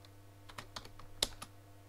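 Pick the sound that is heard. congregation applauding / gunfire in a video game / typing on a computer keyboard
typing on a computer keyboard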